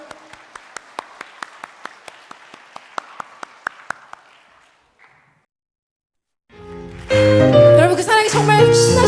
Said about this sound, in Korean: 우리 하나님께 박수를 한번 올려드리고 시작하겠습니다.